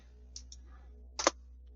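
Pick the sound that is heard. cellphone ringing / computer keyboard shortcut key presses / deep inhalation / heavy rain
computer keyboard shortcut key presses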